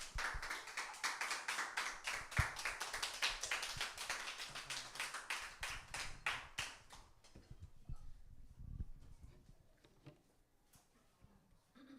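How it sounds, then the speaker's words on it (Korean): A church congregation at a Sunday service claps in welcome for a preacher, lively rhythmic clapping that thins after about seven seconds into scattered claps and taps before fading out. "우리 박수로 환영하겠습니다."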